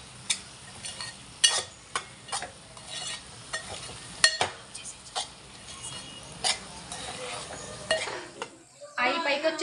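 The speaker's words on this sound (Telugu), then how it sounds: "కారం వేసేసుకొని మొత్తం ఒకసారి కలిపేసుకొని" A spoon scrapes and clinks against a pan while cabbage curry with chili powder is stirred, giving irregular metallic knocks and scrapes over a faint sizzle, some close and sharp.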